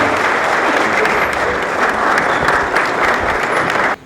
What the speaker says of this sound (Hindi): जोरदार तालियों के साथ स्वागत करें, जोरदार।